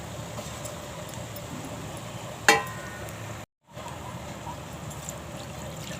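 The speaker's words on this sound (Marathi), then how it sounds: "पाणी घालून घेते" Continuous hiss of a hot pan with a short splashy burst as water is poured into colocasia leaf curry, then the sizzle carries on.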